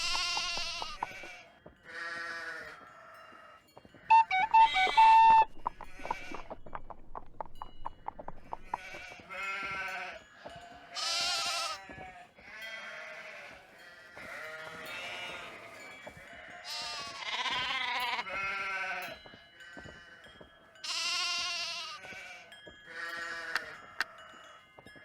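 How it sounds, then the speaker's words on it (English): Sheep in the Nancy Drew game The Haunting of Castle Malloy bleat over and over, a string of loud, close, wavering calls overlapping one another for the whole stretch, with no talking. "Is that a sheep or a show dog?"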